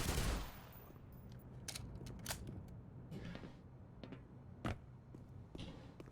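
Gunfire in the game Black Mesa: a handful of sharp, scattered shots at uneven gaps, with one louder burst near the end over a low background. No one speaks.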